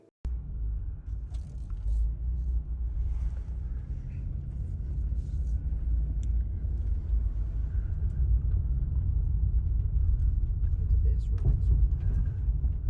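A Toyota Supra MK4 is driven on a road, heard from inside as a steady low engine and road rumble that stays even and fairly loud for the whole stretch.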